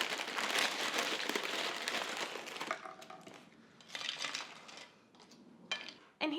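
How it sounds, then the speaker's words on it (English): Tostitos tortilla chips being arranged around a queso sausage dip, with light crinkling and clattering as the chips are handled and set on a dish, close and fairly quiet. "We're going to just put some Tostitos around it."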